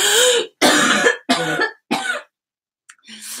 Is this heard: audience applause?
no